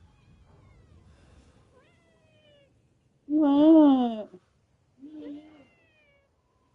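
A pet cat gives a long, loud meow followed by a shorter one in a quiet room, and a voice speaks briefly.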